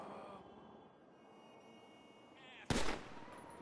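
Gunfire in Grand Theft Auto V: one sudden, loud, sharp shot or short burst near the end, after a quieter stretch with faint voices in the game.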